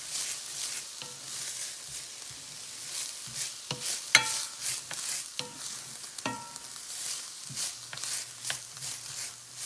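Peppers and onions sauté in a pan for red beans and rice, with a light sizzle and repeated spatula scrapes and taps at an uneven rhythm. The sound is close and fairly quiet, with no talking.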